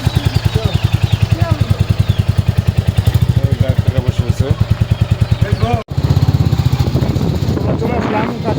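A motorcycle engine putters close by in a rapid, even pulsing rhythm, loud and continuous, with a brief cut partway through, while people talk over it.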